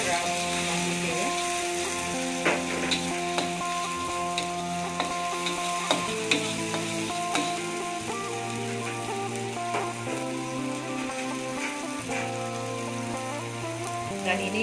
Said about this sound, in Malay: Saya nak tumis bahan yang saya blend tadi.